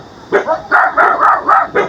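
An angry dog at a house barks close by in a quick series of about six loud, sharp barks with short pauses between them.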